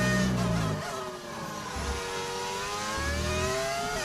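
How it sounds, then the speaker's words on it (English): Formula 1 car engines screaming in the F1 25 game, a high whining engine note with rising and falling pitch through gear changes, heard close and continuous alongside lower rumbles. "New engines sound like TIE fighters?"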